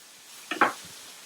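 A big knob of butter hits a hot pan for a steak sandwich, giving a short, close burst of sizzling and spattering that fades within a moment against a quiet kitchen background.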